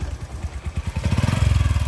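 A boda boda motorcycle taxi engine chugs nearby, its rapid pulsing firing growing louder and steadier as it picks up speed over a couple of seconds.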